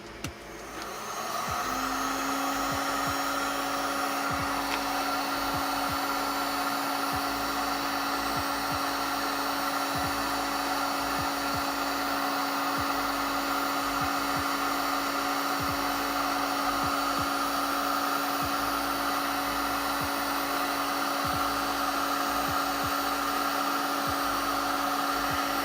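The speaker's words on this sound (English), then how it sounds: "There's so much fan noise in this room right now." Steady fan noise fills a room with a 3D printer running, a constant close whir with a sustained hum joining after a moment, continuing unchanged throughout without talk.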